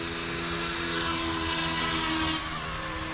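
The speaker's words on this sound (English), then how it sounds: "the moment you push this away from you, the heli will start to spool up" An Eachine E200 Black Hawk RC helicopter spools up with a steady high-pitched rotor and motor whine, loud and close, holding level with a slight drop near the end.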